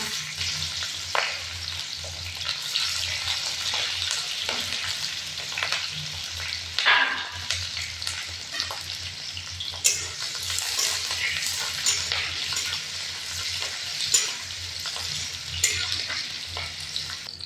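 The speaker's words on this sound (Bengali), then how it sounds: "পেঁয়াজ লঙ্কা ভাজা ভাজা হয়ে গেছে" Onions and green chilies sizzle and crackle steadily in hot oil for a long stretch, with occasional stirring scrapes and no talking.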